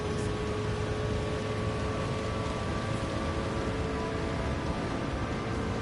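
Steady rain pours down during a race in a video game, a dense, even hiss that holds at the same level throughout with no voices over it.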